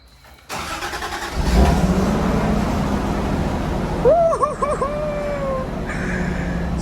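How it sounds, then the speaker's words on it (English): A Toyota Supra engine cranks and fires up quickly, then settles into a steady, loud idle heard close by, with a few faint voices and whistling tones toward the end. "right now he's about to start up the Supra"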